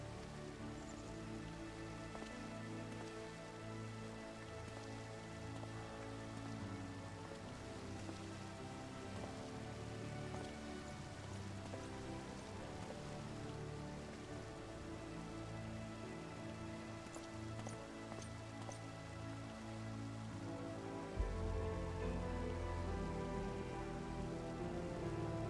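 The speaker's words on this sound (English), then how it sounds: "It's raining" Steady rain in Final Fantasy XIV pours down as an even, continuous patter and hiss on surfaces, held at a constant level throughout with game music layered beneath.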